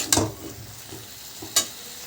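Food fries in a pan with a soft, low sizzle, broken by two sharp utensil clinks, one near the start and another about a second and a half later.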